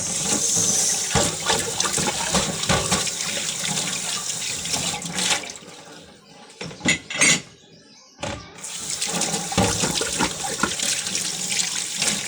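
Rinsing under a running tap makes a loud, continuous splashing rush that briefly drops away and surges back with a few clattering knocks, with no voices.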